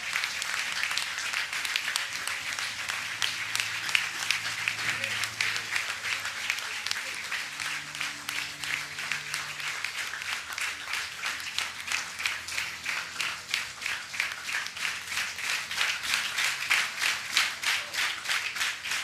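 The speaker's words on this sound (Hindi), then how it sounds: "खुदा के फजल के लिए ताली बजाए" A church congregation at a Pentecost service claps in sustained, rhythmic applause, a steady dense patter of many hands that swells and continues throughout.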